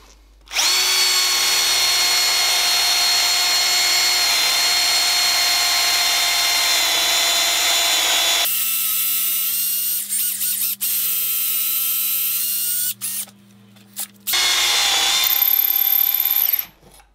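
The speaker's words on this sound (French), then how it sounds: "je viens de traverser" A Bosch GSR 12V cordless drill fitted with a 5 mm bit bores steadily through into a corner, its loud whining motor running continuously for several seconds, then stopping and restarting in short bursts before a final spin.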